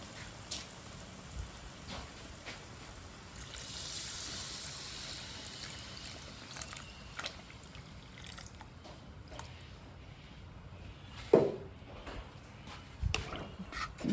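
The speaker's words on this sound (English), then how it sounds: "you can now add some water." Water is poured into a pan of Malaysian chicken curry base of oil, spices and salt, making a soft continuous trickling and splashing with a few louder clinks and sizzles near the end.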